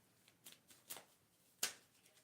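Cards from a sci-fi themed tarot deck being shuffled: a few faint soft riffles and flicks, then one sharper, louder slap near the end, close and quiet with no voices.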